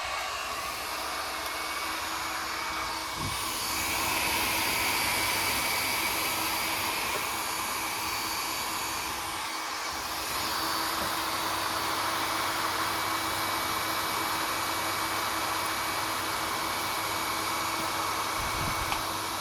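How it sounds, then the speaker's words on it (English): A hair dryer blows hot air onto a temperature sensor, a steady, loud broadband whoosh with a faint motor hum that briefly dips and shifts as it is moved, running continuously. "I am using a hair dryer to blow hot air into the sensor."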